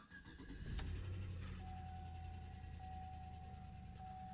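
A Tahoe truck engine turns over with a brief crank and catches, then settles into a steady, close running rumble with a faint high whine.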